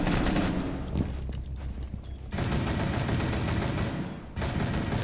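Rapid automatic gunfire in a tactical first-person shooter match, loud sustained bursts fired up close, broken by short pauses, with no talk.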